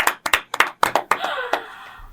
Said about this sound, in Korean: 아, 잠깐 박수 좀 쳐드리고 싶어요.